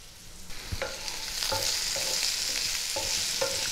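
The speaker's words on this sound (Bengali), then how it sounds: "করলা নরমও হয়ে গেছে এবং কিছুটা ভাজা ভাজাও হয়েছে।" Softened bitter gourd sizzles in a pan, the frying hiss building after a few sharp clinks, with regular spatula taps and scrapes as it is stirred.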